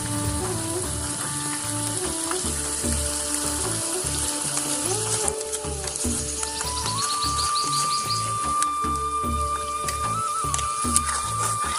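Sour yogurt goes into a pan of frying chicken curry, giving a constant, fairly loud sizzle and crackle with scraping stirs and faint melodic tones in the background.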